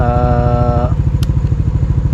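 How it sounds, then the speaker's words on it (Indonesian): A motorcycle engine idles with a fast, even putter, a whining tone fading early as the throttle eases, loud and close. "ini gua baru gas dikit loh ya, pelan nih"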